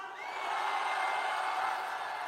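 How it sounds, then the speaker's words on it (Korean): A large rally crowd supporting President Yoon Suk-yeol cheers in a sustained, steady roar that swells slightly and holds, heard from some distance with no single voice standing out. "윤석열 대통령께 한 번 더 응원하는 함성 한번 부탁드립니다"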